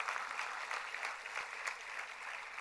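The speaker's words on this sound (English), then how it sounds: "give a loud round of applause to yourself and to your parents" Graduates and parents applauding at a convocation ceremony, a dense, even wash of many hands clapping from a large crowd, steady and moderately loud throughout the short stretch.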